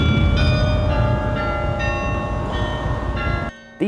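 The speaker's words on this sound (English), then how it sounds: "songs that sound really nice on the bells" A set of bells plays a melody, with bright, ringing strikes sounding one after another over a dense wash of overlapping resonance that cuts off abruptly near the end.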